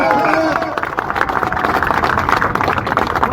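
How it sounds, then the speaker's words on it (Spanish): Clapping from a crowd of union workers and supporters at a street labor gathering, scattered sharp claps under loud chatter and overlapping voices, close and steady throughout. "Un fuerte aplauso a los compañeros"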